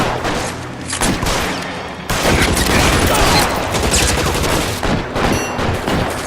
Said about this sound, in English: Jogada da metralhadora com inimigos.